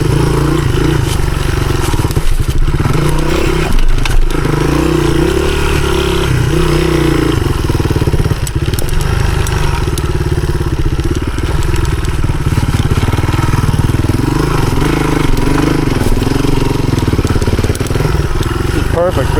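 A 1983 Honda XR200R dirt bike engine drones loud and steady on a rough enduro trail loop, rising and dipping with the throttle over uneven off-camber ground, while a rider talks over it.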